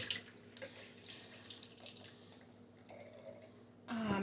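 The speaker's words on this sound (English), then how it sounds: "Let me wash your hands." Hands rinse under a running kitchen tap, water splashing and trickling close by in uneven bursts, ending in a fuller gush of flow.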